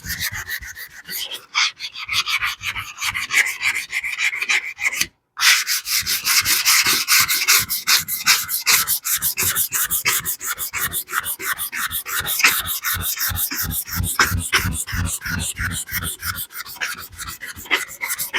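Rhythmic hand sanding strokes rub across a car fender before basecoat, brisk and close, with one brief pause early on and no speech.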